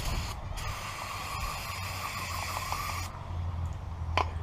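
Carburetor cleaner sprays in a steady, close hiss onto a part from an old Craftsman tiller outdoors by a shed, running about three seconds before cutting off, with faint clicks and low rumble after.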